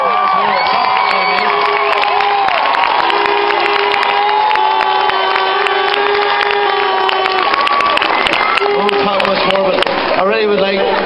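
A large crowd at a Down GAA football homecoming cheers, whoops and applauds continuously and loudly, with shouting children and voices mixed through the dense, sustained roar.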